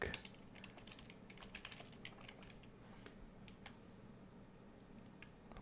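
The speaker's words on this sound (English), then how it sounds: "Just typing the deck." Quiet, steady typing on a computer keyboard, a rapid patter of soft key clicks with no talking, while entering a deck list for an online Magic: The Gathering Modern league match.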